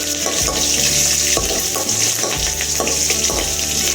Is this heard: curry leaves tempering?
yes